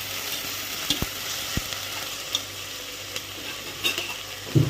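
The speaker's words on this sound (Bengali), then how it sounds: "এবার আমি ভালো করে তেলের সঙ্গে নেড়ে দেবো।" Garlic paste stirred in hot oil for mutton korma, a continuous dense sizzle with faint clicks of a spoon against the pan scattered through it and a louder scrape at the end.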